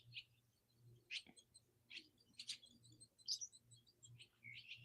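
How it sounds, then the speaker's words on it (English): Small birds, including babies in a nest, chirp in short, high, repeated tweets scattered through a quiet outdoor background, faint and unaccompanied by talk. "Y'all hear the birds?"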